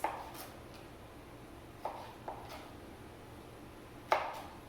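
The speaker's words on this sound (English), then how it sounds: "I can quickly make a couple of slices" A knife makes a few soft, separate cuts through a tomato while preparing a salad, spaced irregularly and faint against quiet room tone, with no talking.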